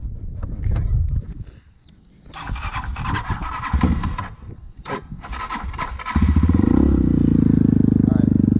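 A Kayo T4 dirt bike, cold after a creek ride, is handled with rubbing and knocking noises before its engine catches around six seconds in and settles into a loud, steady, close idle.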